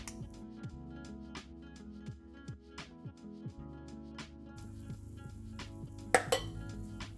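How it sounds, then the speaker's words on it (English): Batter scooped with an ice cream scoop into a hot imagawayaki pan for cheese imagawayaki, giving a series of light metallic taps and clinks about once a second over steady tonal background music, with a faint sizzle. "So I'm going to scoop them until they're about half full of batter."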